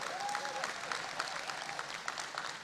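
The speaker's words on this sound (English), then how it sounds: "Give our board a round of applause." An audience claps together in sustained, faint applause, a soft wash of many hands heard from a distance.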